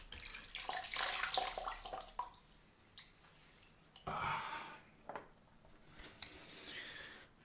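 Water scooped from a bowl and splashed onto a face before a wet shave, giving several quiet, close splashes and wet squishy rubs in irregular bursts, with no talking.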